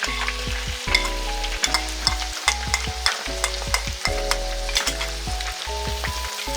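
Spices and crushed green chilies frying in a pan for chana daal palao, with a steady sizzle broken by repeated scraping stirs of a spoon, close and fairly loud, no talk.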